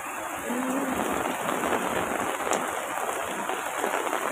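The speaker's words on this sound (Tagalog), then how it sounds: "Umuulan." Rain falls steadily in a constant wash of hiss and patter, with a few close drops standing out.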